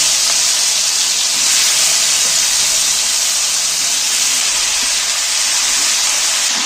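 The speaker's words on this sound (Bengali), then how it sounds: "নুন মাখানো গাজর আর আলু কাটাগুলো দিয়ে দিচ্ছি।" Salted carrot and potato pieces hit hot oil in a pan, producing a loud, steady hissing sizzle that stays constant and close throughout.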